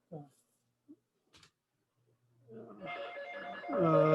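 A regular old phone starts ringing after a few faint clicks and thumps. The ring sets in quietly, then a bright electronic tone trills and grows louder by the end.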